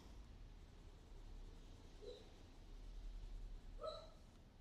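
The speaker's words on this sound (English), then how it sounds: "My dogs are so noisy." A couple of brief, soft dog vocalizations, a small whine then a yip, rise faintly over a steady low background hum.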